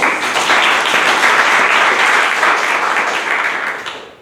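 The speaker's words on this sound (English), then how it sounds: "Let's have a round of applause for them." Meeting audience at a Toastmasters club gives a round of applause, dense continuous clapping that holds steady for about four seconds before tapering off.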